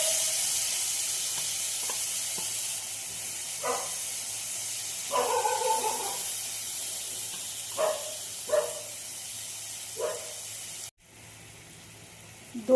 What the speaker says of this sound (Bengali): মশলাটা যখন ভাজা হয়ে গেল তখন আমি এর মধ্যে ফেটানো টক দই দিয়ে দিচ্ছি।